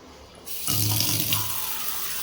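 Tap water begins running suddenly in a kitchen, then gushes steadily and loudly into a container until the end.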